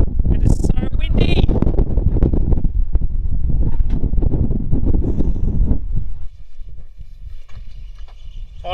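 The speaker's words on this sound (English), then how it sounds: "It is so windy." Heavy wind buffets the microphone in loud, constant low rumbles for most of the clip, easing slightly near the end.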